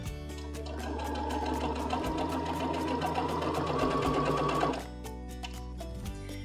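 A Baby Lock Jubilant sewing machine stitches just inside fabric piping, running steadily and close for about four and a half seconds before stopping, followed by quieter handling noise.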